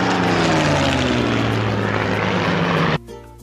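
A Spitfire propeller aircraft's engine roars loud and close in a continuous droning pass, its pitch sliding gradually downward, then cutting off abruptly near the end.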